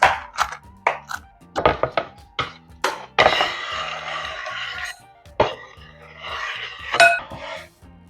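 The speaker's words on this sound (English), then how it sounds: "Just keep chopping until you get to the end." A knife chops nuts repeatedly against a cutting board, sharp irregular knocks in quick clusters, close by, with some scraping and clatter between strokes.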